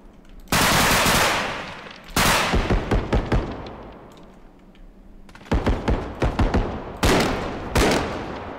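M4 rifle fire in the realistic BODYCAM shooter game: loud, close bursts of rapid shots with sharp individual cracks, separated by short pauses and trailing echoes.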